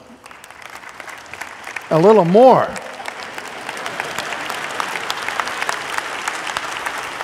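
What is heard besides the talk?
church congregation applause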